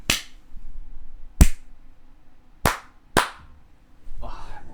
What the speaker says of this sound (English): Give us a little clap.